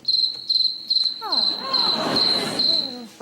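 An electronic buzzer imitating a cricket chirps in a steady, repeated high trill on a quiz show, while laughter and audience noise swell up under it partway through.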